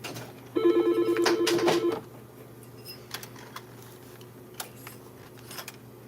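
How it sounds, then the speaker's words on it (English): A telephone rings in an active shop during live ring carving, a loud, rapid electronic trill that lasts under two seconds and stands alone, followed by quiet room tone with small clicks and taps. "Yes, the phone rang."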